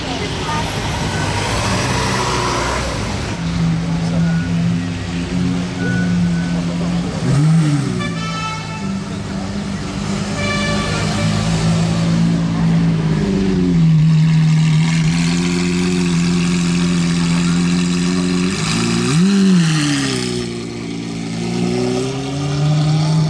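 A sports car in Monaco revs repeatedly with its exhaust open, loud and throaty, rising and falling in pitch over a steady rumble, close by, with voices faintly underneath.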